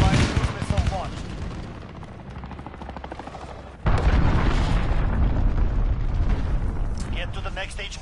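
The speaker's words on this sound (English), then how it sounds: "Allied cruise missile launched." Cruise missile strike explosions in the Modern Warfare video game, a series of loud, heavy blasts and rumbling impacts, with a sharp new burst midway through and gunfire crackling on top.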